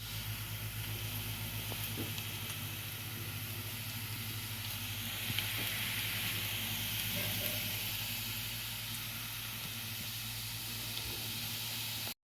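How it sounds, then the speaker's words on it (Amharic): Onions fry in a pan for a lentil dish, giving a steady, moderate sizzle and hiss with a few faint clicks, continuing throughout with no speech. "እዚህ እየጠበስኩ ነው"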